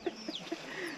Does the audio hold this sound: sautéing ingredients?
no